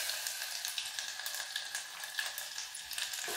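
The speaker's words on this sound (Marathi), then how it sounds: "लसूण थोडासा परतून घेऊया" Garlic with cumin seeds sautéing in about four tablespoons of hot oil while cooking khichdi rice, a steady bright sizzle crackling evenly throughout without pause.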